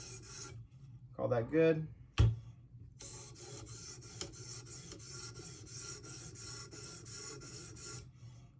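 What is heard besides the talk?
sharpening a 15V steel Spyderco Para 3 knife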